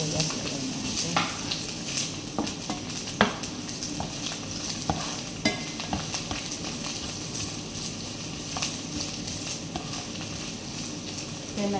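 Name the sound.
marinated chicken with garlic and onion frying for adobo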